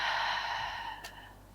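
A long, steady exhale during a relaxing yoga stretch session: soft, breathy and close, fading gradually over a second and a half with no talk.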